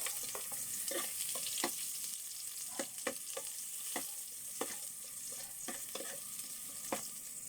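Garlic, then onion and ginger, sautéing in a pan as the first step of a ginataang labong dish, giving a steady close sizzle broken by repeated sharp spatula scrapes and stirring clicks, with no talking.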